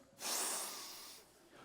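A single close, breathy sniff by a person, a sharp hissing intake of air through the nose lasting about a second before trailing off.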